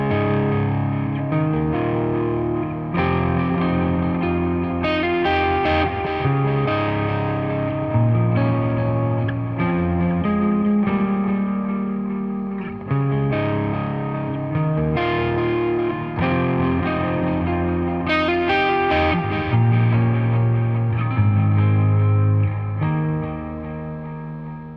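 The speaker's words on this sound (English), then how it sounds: "And with the gain down a bit of delay and reverb, it sounds really good." An electric guitar played through a Boss overdrive pedal with the gain lowered plus delay and reverb, a smooth driven tone playing a sustained melodic passage of ringing chords and single notes with echoing tails, alone and fairly loud.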